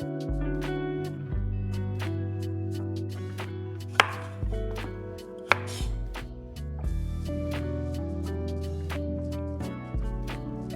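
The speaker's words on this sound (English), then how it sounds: "Peel and cut carrot into oblique cuts." A knife chopping a peeled carrot into oblique cuts, a quick series of sharp close taps on a cutting board, steady and rhythmic over a low background hum.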